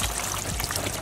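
Soda pours into a bottle for a Mentos experiment in a short, steady gush of liquid that lasts about a second.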